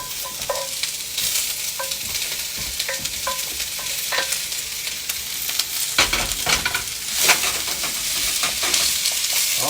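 An egg sizzling and being stirred in a hot wok for fried rice, with close, busy frying hiss and repeated metal clinks and scrapes of the spatula throughout.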